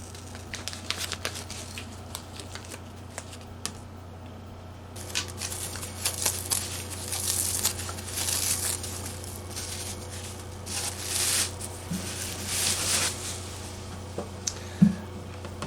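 Masking tape peeled off a Gibson guitar headstock, with close crinkling and tearing rustles that swell into louder ripping strips over a low steady hum.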